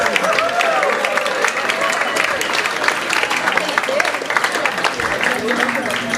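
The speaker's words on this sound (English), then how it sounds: "let's have another round of applause for Bob and Mark" Audience applause after a PechaKucha presentation, a dense steady wash of clapping with crowd noise and some voices mixed in.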